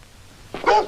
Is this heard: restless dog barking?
yes